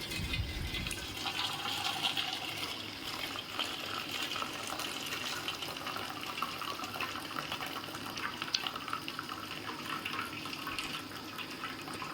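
Water pours and splashes steadily for several seconds as cooked greens are drained, a continuous rushing stream close by with no talking.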